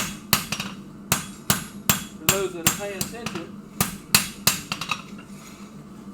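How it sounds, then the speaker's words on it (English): A blacksmith shop power hammer strikes metal in sharp, loud, fairly regular blows, roughly a dozen ringing hits with a bright metallic tone, while someone talks between and under the strikes. "power hammer right here."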